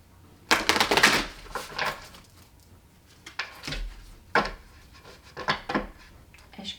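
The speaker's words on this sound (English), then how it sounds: "Let's reshuffle." A deck of tarot cards is shuffled by hand in several close, riffling bursts with brief pauses in between, crisp and papery with no talking.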